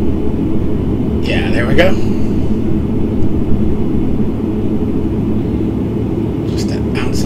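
Turboprop engines of an ATR72-500 in the Prepar3D flight simulator drone steadily as throttle comes up, a loud continuous rumble with a short spoken word and brief clicks over it.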